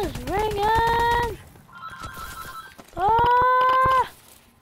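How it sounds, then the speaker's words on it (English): A telephone rings in a Call of Duty video game, heard as two bursts of bright, warbling electronic tone separated by a short gap, close and loud, with a softer tonal blip and faint clatter between them. "The phone is ringing!"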